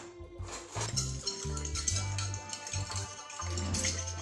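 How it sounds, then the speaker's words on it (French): A spoon stirring a curry and paprika marinade in a bowl, with repeated clinking scrapes against the sides in an uneven rhythm, close and fairly quiet, no voices. "2 petites cuillères à soupe de curry et la valeur de 2 cuillères à soupe de paprika. On vient mélanger tout."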